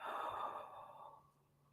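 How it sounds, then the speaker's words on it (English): A slow, soft exhale through the mouth during a guided relaxation breathing exercise, close and quiet, airy at first and fading gently away into stillness. "Exhale slowly."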